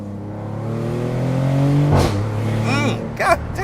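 A Maserati GranCabrio Trofeo holds a steady, droning engine note that builds, then gives a sharp rising rev burst near the end. It sounds close, loud and continuous, with no talk over it.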